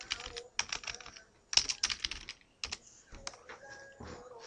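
Typing on a computer keyboard while entering a search word into supplier software, heard as irregular bursts of sharp, close key clicks with short pauses between them and no talking.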